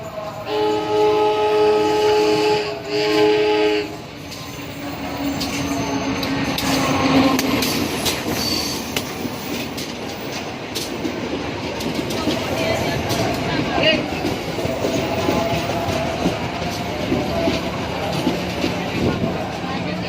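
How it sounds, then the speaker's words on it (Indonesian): A train pulls into a station platform at Purwakarta, with a steady rolling rumble and wheel noise building and holding close, while people talk nearby over a brief tonal horn-like sound at the start. "Keretanya tiba."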